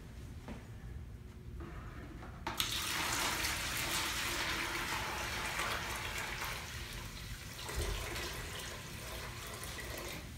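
Water pours steadily from a bucket into a JBJ Cubey 15-gallon aquarium, a continuous splashing rush that starts abruptly and keeps flowing at close range, with a brief surge near the end and no talking.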